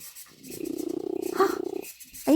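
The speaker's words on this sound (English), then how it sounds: "Oh, are you going to purr for everybody?" A pet cat named Bonkers purrs close up in a low, rapid rhythmic rumble lasting about a second and a half, between quiet moments.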